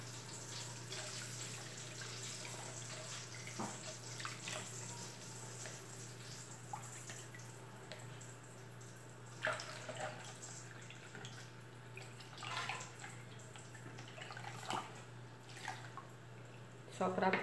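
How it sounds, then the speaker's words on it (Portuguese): Running tap water rinses a small spoon at a sink while making liquid soap concentrate, a steady wash of flow with brief clinks and splashes near the end. "Lavar nossa colherzinha aqui."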